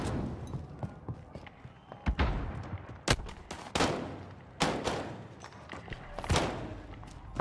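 Gunfire in a Warzone Caldera gulag fight: several sharp, loud bursts close by, spaced irregularly over a steady background rumble.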